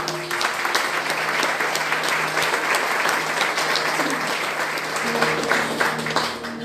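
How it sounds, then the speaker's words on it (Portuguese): Congregation at an evening church service clapping to praise the Lord as a pastor is welcomed, a loud, sustained crowd of hands with faint voices and a low hum underneath. "aplauda o Senhor com as tuas palmas"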